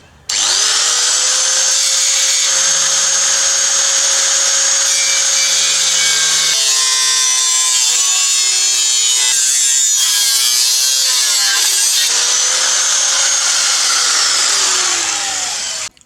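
A power tool cuts rusted metal out of a Toyota Hilux body, with a loud, continuous whining grind that holds for the whole stretch and shifts pitch as it bites, close up and with no voices.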